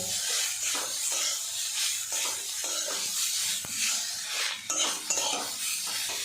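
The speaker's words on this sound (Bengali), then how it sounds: "পেঁয়াজের সাথে মূলোটা বেশ কিছুক্ষণ নাড়াচাড়া করে নেব" Radish and onion stir-fried in a pan without salt, continuous scraping and stirring with a spatula over a bright sizzle, metal clinks scattered through, close and fairly loud with no talking.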